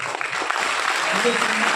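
Applause from a business-seminar audience in Pune, a dense, even patter of many hands with a voice faintly heard alongside.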